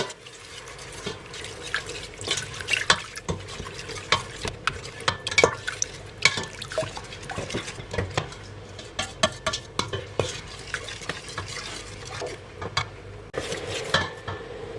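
Pork and coconut milk being stir-fried in a pot for a Thai green curry, with busy scraping and clattering of a metal utensil against the pot in quick irregular strokes over a low sizzle, close and fairly loud.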